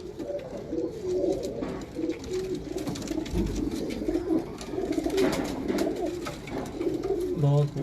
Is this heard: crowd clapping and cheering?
no